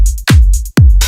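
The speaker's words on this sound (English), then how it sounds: "Open hi-hat, super simple. 909 style hi-hat." 909-style open hi-hat from a Circuit Rhythm sampler in a minimal techno groove, bright sizzling hats ringing over two deep kick hits in a tight, loud, steady loop with no voices.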